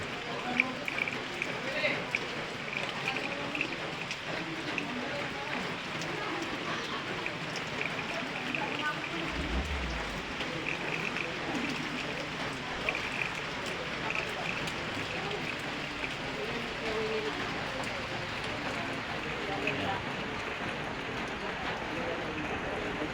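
Steady rain falling outdoors after a spell of heat, a continuous even patter and hiss that holds at the same level from start to finish, with faint background sounds mixed in.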